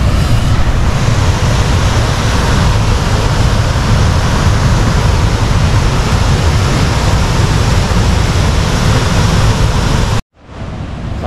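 Sumampan Waterfall in Bali pours in a steady, loud, dense rush of falling water that roars continuously, then cuts out abruptly near the end before resuming more softly.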